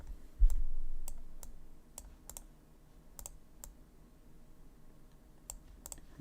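A computer mouse clicks repeatedly during a livestream, sharp isolated clicks at irregular intervals over a quiet background hum, with one soft thump near the start and no talking.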